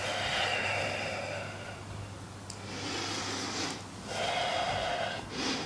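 A person on a mat in a yoga flow breathes in slow, audible cycles, each breath a soft rushing swell, close and quiet against a faint low hum.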